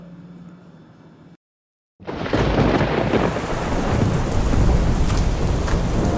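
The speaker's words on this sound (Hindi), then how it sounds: "शाम से बारिश रुकने का नाम तक नहीं ले रही।" A cartoon rainstorm: steady rain with rumbling thunder plays, breaks off into brief silence, then returns as a loud, dense downpour with heavy thunder that continues to the end.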